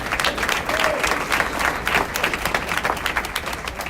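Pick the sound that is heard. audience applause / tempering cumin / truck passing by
audience applause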